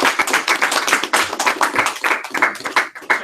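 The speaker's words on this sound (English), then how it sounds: "Let's give a round of applause." A small audience gives a round of applause at a general session after someone reads in front of the group. Dense, close clapping fills the whole short stretch.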